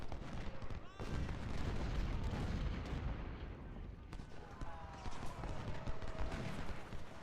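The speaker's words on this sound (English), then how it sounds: "The cavalry just took a volley to the rear." Musket volleys and artillery rumble on a battlefield in the video game Ultimate General: Civil War. There is dense, continuous crackling gunfire with heavy booms, and sharp bursts near the start and middle.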